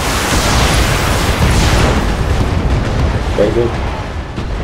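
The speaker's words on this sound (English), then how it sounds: "so fire the missiles" Missiles firing and exploding in the mech game Battletech, a dense, loud, continuous roar of blasts and rumbling booms throughout, with someone briefly speaking over it.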